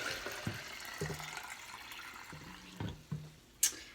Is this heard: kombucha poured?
yes